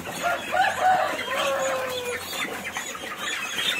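Several chickens cluck and squawk together in a noisy barnyard at harvest time on a farm, with a rooster-like call rising among the steady chatter of the flock.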